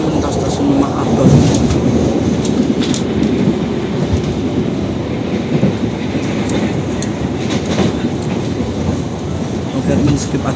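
Passenger train riding past Lemah Abang station in Indonesia, a steady rumbling roar of wheels and carriages heard from on board, continuous and loud with faint clatter, a voice talking briefly underneath.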